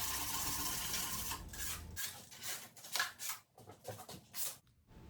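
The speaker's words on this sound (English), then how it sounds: "I'm just going to give it a light sand. I skipped all the way up to 220 grit sandpaper." Light hand sanding of a handmade wood cabinet with 220 grit sandpaper: soft, close rasping strokes in an uneven rhythm, a steady rub for about two seconds and then shorter separate passes with brief pauses, no voices.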